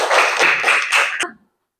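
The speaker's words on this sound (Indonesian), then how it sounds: "beri tepuk tangan untuk kalian semua" A classroom of students applauds together, a dense burst of clapping lasting about a second and a half before stopping abruptly into silence.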